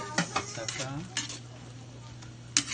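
Sautéed vegetables with okra and pork cooking in a pan, a quiet steady sizzle punctuated by repeated clinks and scrapes of a utensil on the pan, close by, with no voices.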